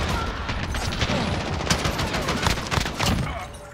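Rapid gunfire in the Modern Warfare video game with a 2 Tapper Gold Odin rifle, close, loud bursts of shots and overlapping fire in a steady, busy rhythm.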